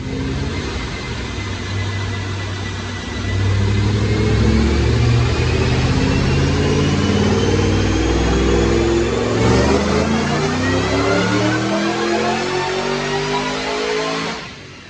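Supercharged 2009 Ford Mustang GT500 with a VMP supercharger on a Dynojet dyno pull, a loud, close engine roar rising steadily in pitch over several seconds with supercharger whine, then easing off at the end.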